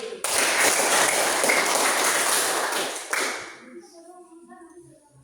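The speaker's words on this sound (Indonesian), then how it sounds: "Tepuk tangan sekali lagi." A burst of group applause in a classroom, dense clapping from many hands for about three seconds before fading out, followed by faint voices.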